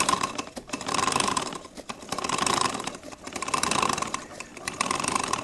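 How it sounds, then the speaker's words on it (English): A bicycle chain clicks and ticks as the wheel is slowly turned by hand during cleaning with a chain maintenance tool, a steady ratcheting patter in gentle surges, close and with no talk. "slowly rotating the wheel as we inject the cleaning solution"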